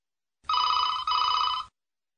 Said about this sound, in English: Truecall now rings Mary's phone